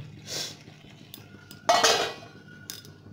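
A lid goes onto a pan of brinjal masala cooking on a medium flame, giving a couple of short metallic clinks and a brighter clatter as it settles, over a low steady background hum.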